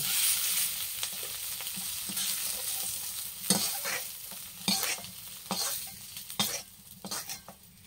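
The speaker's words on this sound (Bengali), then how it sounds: "দেখুন মাছগুলো ভাজা হয়ে গেছে তুলে নেবো" Fish seasoned with salt and turmeric frying in hot oil in a pan, a steady sizzle broken by repeated scraping stirs and clinks of a utensil against the pan, close and moderately loud with no talk.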